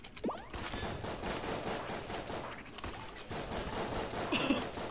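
Rapid video-game gunfire from a weapon in Enter the Gungeon during a boss fight against the twins, a dense stream of synthetic shots with chirpy effects, loud and continuous throughout with no talk.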